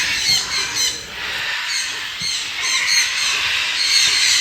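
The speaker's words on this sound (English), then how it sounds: "Oh, it's the macaw down there." A macaw squawks in loud, harsh, repeated calls at a parrot park in Pigeon Forge, Tennessee, several shrill bursts close together over background noise.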